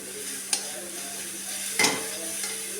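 Mango pickle being stirred in a frying pan gives a soft, steady sizzle, broken by two brief scraping clicks of the spoon against the pan, close by and fairly quiet.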